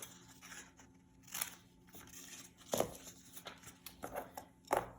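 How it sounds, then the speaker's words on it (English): Scissors snip paper cut-outs for a tulip craft, trimming excess near a chopstick stem; several short, close snips come at irregular intervals against a quiet room. "I'm just gonna trim it off because this will get in the way."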